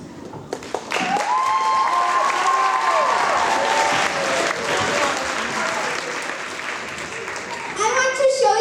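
A theater audience applauds and cheers loudly for the directors of a Pirates of Penzance production, sustained dense clapping with some whistles and voices mixed in, swelling again near the end.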